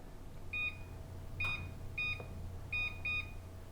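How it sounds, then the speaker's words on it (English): A kitchen timer alarm goes off while a cake bakes, giving several short, sharp electronic beeps in quick pairs and bursts, fairly clear over a quiet room hum. "Now that your alarm has gone off"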